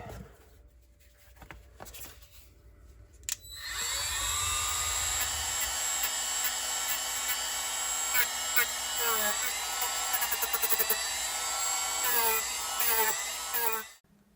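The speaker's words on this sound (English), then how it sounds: "this is where we use our rotary tool with a sanding bit" After a few scattered clicks, a small rotary tool with a sanding bit whines up to a high, steady buzz, its pitch wavering as it sands EVA foam, then stops.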